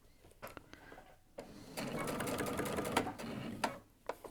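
A sewing machine stitches the last seam of a sleeve, starting with a few short clicks and hesitant bursts, then running in a steady quiet mechanical whir for about two seconds before slowing to scattered clicks.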